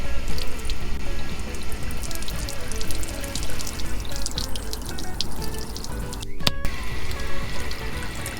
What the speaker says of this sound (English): now we can actually drop the waste from inside the cab